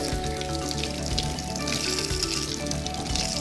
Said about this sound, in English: give it a nice rinse.